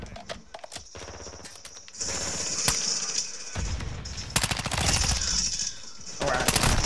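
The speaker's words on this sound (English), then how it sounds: "Oh man, this gun is insane." Rapid gunfire from a weapon in Call of Duty gameplay, with dense bursts of shots and clatter, loud and close, running through the whole stretch with little pause.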